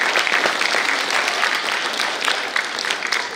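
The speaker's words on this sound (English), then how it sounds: "Let's give a big round of applause for them." Steady, close audience applause rolls on without pause, a full crowd clapping together throughout.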